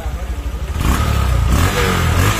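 A Honda Verza motorcycle engine idles with a pulsing low chug, then is revved up into a loud, sustained roar close by.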